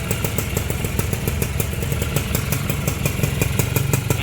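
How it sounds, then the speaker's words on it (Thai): Steady rhythmic exhaust putter of an idling Honda Tena motorcycle, recorded close, with quick regular pulses and slight clatter holding even for a few seconds. "เสียงท่อพอมาก"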